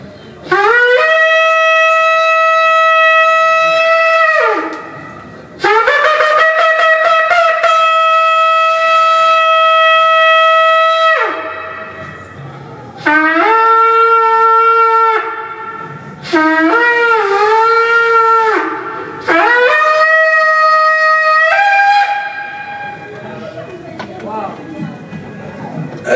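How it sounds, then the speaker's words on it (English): A shofar ram's horn blown at a symposium sounds several long, loud, brassy blasts separated by short breaths, some wavering and bending in pitch as they break and fall off at the ends. "I'd like to blow it over here so you all can hear it."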